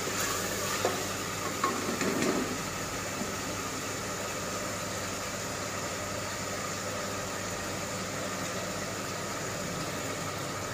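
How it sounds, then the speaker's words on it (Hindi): Ginger and garlic sautéing in a pan, giving a steady, close sizzle with faint stirring that runs evenly throughout, with no talking. "इसे अच्छी तरह से सोते करेंगे ताकि जिंजर गार्लिक का कच्चापन दूर हो जाए"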